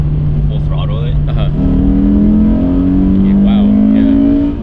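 A Toyota GR86 engine at full throttle gives a loud, rising induction drone that climbs steadily in pitch, heard from inside the cabin with people talking over it.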